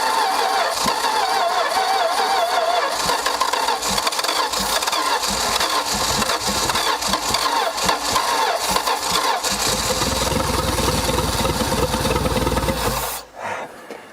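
A forgotten 1968 Plymouth Valiant cranks over and fires up, the engine's uneven rumble and sputter continuing close and loud for over ten seconds before abruptly stopping.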